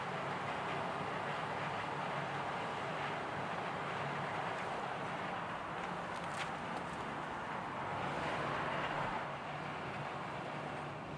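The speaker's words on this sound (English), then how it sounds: "it's so loud. Is that a train?" A loud, steady rumble of a passing train, continuous roaring noise with a windy, rushing texture throughout and no voices.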